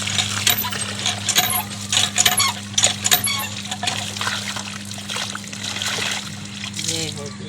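A running tap splashes and trickles while clothes are washed, with clinks and splatters under an electrical hum, and people talk intermittently over the water.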